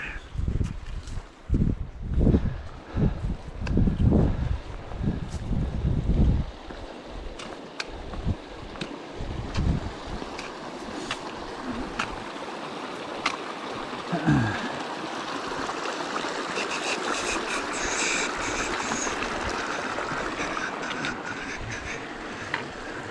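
Water rushing and burbling steadily in Porcupine Creek in the Wind River Range, with some louder thumps and wind buffeting early on, then a continuous even flow.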